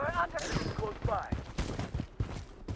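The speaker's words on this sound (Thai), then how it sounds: "ยิงกระสุน" Rapid bursts of gunfire in the shooter game Blood Strike crack in quick succession, close and punchy, mixed with a player's voice talking over the action.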